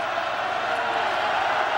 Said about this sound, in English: This crowd was a factor at points last week against Chattanooga, and they're going nuts now